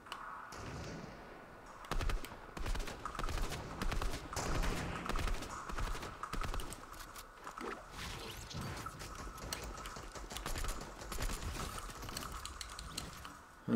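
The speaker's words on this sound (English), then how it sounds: "But people are shooting me. I don't know where from." Rapid gunfire bursts and crackling shots from the Fortnite video game, dense and continuous at moderate volume, with scattered impacts and no talk.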